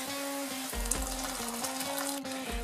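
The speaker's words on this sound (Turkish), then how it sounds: "suyumuzun üzerine biraz sıcak su ilave ediyoruz." Hot water is added to strained bone broth for a winter soup, giving a steady sizzling, bubbling wash with a low hum beneath and no talking.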